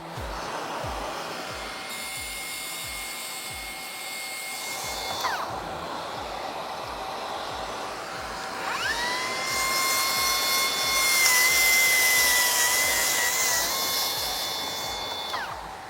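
Milwaukee plunge saw making a shallow scoring cut, the motor whining up, cutting for a few seconds, dropping off, then spinning up again louder and holding a high steady whine, close and alone.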